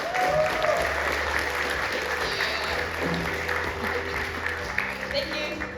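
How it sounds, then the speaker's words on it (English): An audience at a nomad business conference gives a warm round of dense, continuous applause for the final speaker. Steady clapping fills the room throughout, with a low hum underneath and some voices mixed in. "warm round of applause, a royal welcome to our final speaker"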